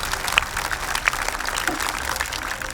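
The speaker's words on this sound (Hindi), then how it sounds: "तो एक बार उन सभी क्रांतिकारियों के लिए आप जोरदार तालियां बजाएंगे।" Students and guests at a school Independence Day ceremony clap in sustained applause, a busy mix of many hands with a few sharper individual claps standing out.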